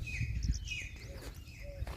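Sparrows chirp in short, thin, high calls scattered across a village field edge, with steady low rumble and faint background noise underneath.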